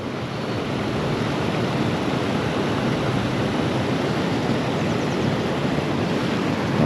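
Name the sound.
rushing white water of a creek below a dam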